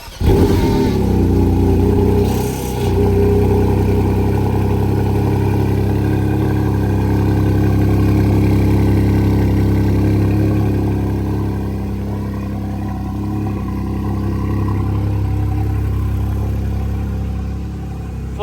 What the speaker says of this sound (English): Fudge, let's get the famous cold start